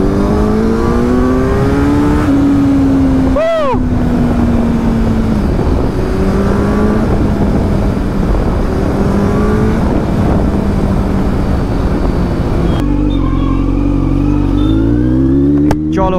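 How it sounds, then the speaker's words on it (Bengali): An inline-four superbike engine revs and accelerates in first gear, a loud, continuous rising whine that climbs in pitch, eases briefly, then climbs again before a sharp shift near the end, with no talking. "This is the feel of inline 4."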